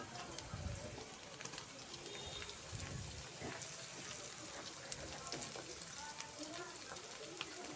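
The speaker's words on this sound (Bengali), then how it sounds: "এগুলো এখন পেঁয়াজের সাথে ভাজি করব" Small shrimp fry with onion stalks in a pan, giving a quiet, steady sizzle with light crackling throughout and no clear voices.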